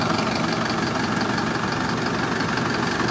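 A Mercedes-Benz MB 1518 Damri bus with an old body idles its diesel engine close by, a steady, loud, continuous rumble with a dry rattly edge and no talk over it.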